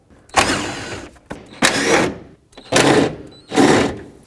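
An electric impact wrench removes 10mm fan shroud bolts on a 2001-07 Toyota Sequoia in four loud, close bursts of rapid hammering, each about half to a second long, separated by short pauses.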